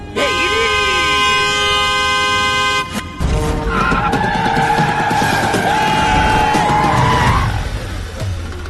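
A long, steady vehicle horn blares loudly for about three seconds, then traffic-like noise follows with skidding and more sustained honking tones, set in a street fight scene from a Telugu comedy film.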